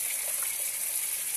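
A splash of water pours into a hot pan of mustard fish curry being made with chapila fish, giving a short, steady hissing gush against a faint sizzle.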